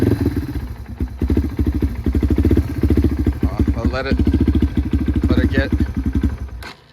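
A Yamaha TTR230 dirt bike, uncorked and rejetted, runs on choke with a loud, close, lumpy mid-pitched engine chug that keeps going throughout, while someone talks over it.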